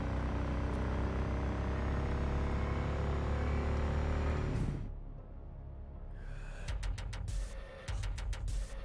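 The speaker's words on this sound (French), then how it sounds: "on n'entend pas trop avec le bruit de la moto par contre" A motorcycle engine in the Cyberpunk 2077 video game drones loudly and steadily for several seconds, then drops off sharply and gives way to quieter, choppier ambient game sound.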